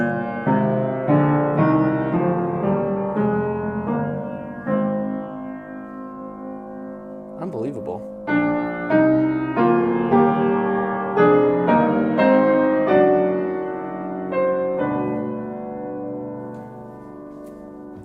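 A C. Bechstein C8 upright piano plays thirds that ring out in a flowing passage, moving through middle and lower registers with sustained tones; a voice briefly speaks midway.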